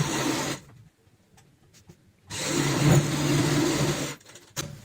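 A sewing machine stitches fabric for a ladies' bag in two close, steady whirring bursts separated by a short pause, with faint clicks while the work is repositioned.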